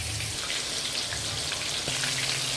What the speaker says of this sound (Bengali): আমার চিকেনগুলো ভাজা হচ্ছে